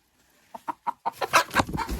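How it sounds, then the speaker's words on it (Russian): A Kuchin breed hen clucking close by, a quick series of short clucks that grow louder and denser toward the end. "Это, кстати, кучинская курочка"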